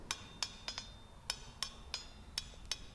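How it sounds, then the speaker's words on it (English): Hammer blows driving a drift through a punched hole in hot forged metal to enlarge it to 3/8 inch for a rivet, about nine sharp, ringing strikes in an uneven rhythm, fairly faint. "now I'm drifting the hole to a 3/8 inch size for the rivet to go through"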